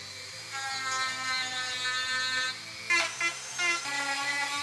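A power tool whines while trimming a shutter part for a 2019-2021 Chevrolet Silverado, its steady high-pitched tone holding for a few seconds before shifting pitch with a couple of louder bursts near the end.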